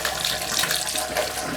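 Water gushes steadily from a tap into a bathroom sink, a constant bright, hissing splash close to the listener, with no voices.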